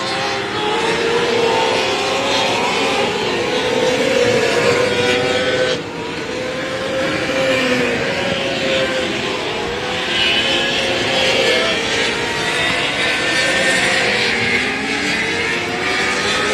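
Dwarf cars race around an oval track at Texana Raceway Park in a Texas racing series, engines droning loudly and continuously as the pack circles, pitch rising and falling through the turns with no talk.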